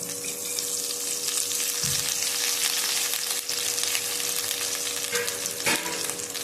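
Cumin and coriander powder sizzle and fry steadily in an oily pan for Bengali khesari and chana dal dhoka curry, with a few scraping stirs of a spoon over the constant hiss.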